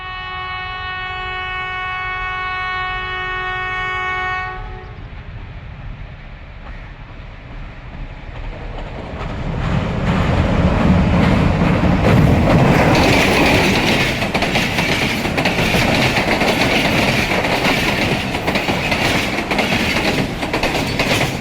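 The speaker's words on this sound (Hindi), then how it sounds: "फिर चलते चलते नहर पर पहुंचा तो रेलवे ट्रेन दिखाई दी" A railway train passes by a canal in a Pakistani village, a horn sounding first, then a loud, steady rumble and clatter of wheels and wagons building up and rolling on to the end.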